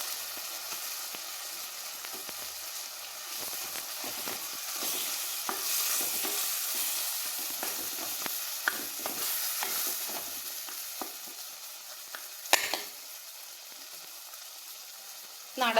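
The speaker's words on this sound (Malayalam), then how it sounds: "കറിവേപ്പില ഇട്ട് കൊടുക്കാം" Curry leaves dropped into a hot pan of frying jackfruit seed and moringa leaf thoran, a continuous loud sizzle with spatula stirring scrapes and a sharp burst near the end.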